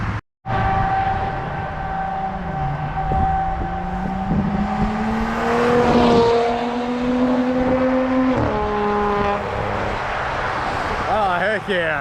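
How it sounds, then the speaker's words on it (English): A B9 Audi S5 with a catless downpipe, front resonator delete and mid muffler delete accelerates up a street, its loud exhaust note rising and shifting through gears for several seconds, with voices heard over it. "He's actually going to give us a little bit of a rip up the street, so this thing's going to sound awesome."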